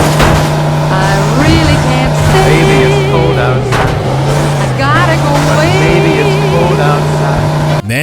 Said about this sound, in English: we thought it would be a great idea to take Joey's car out for a spin